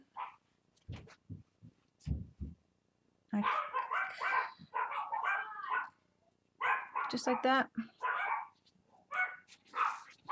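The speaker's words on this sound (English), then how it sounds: "the dogs are barking" Dogs bark in the background of a quiet craft room while a fabric doll is made with glue; short barks come in a few bursts, mixed with close speech that dominates much of the clip.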